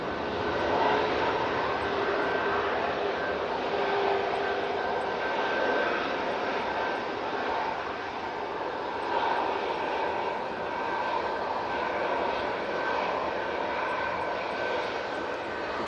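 Airliner engines roar steadily at Manchester Airport in Storm Amy winds, a broad continuous rumble with a whining tone across the whole stretch, fairly loud and unbroken, with no talk over it.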